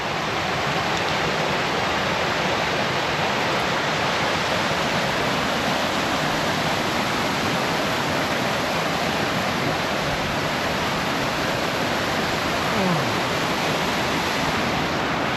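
Flowing water of Teapot Creek in a trail-less wilderness valley, a loud, steady, close rush of a stream branch running without pause throughout.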